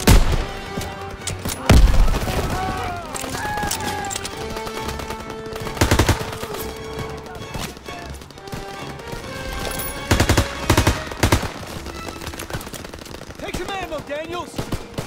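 Rapid bursts of machine gun fire mixed with rifle shots and loud booms on a World War II battlefield in Call of Duty WW2, with shouting voices over the gunfire.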